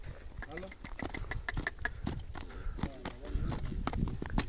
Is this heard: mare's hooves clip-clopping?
yes